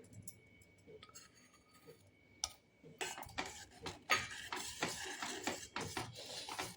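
A spoon scrapes and taps steadily in a pot as custard powder is stirred into boiled milk, a quick irregular rhythm of soft clinks and rubbing, close and fairly quiet.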